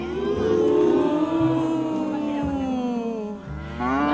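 Several young voices imitate a cow, drawn-out moos rising and falling in a loud chorus for about four seconds.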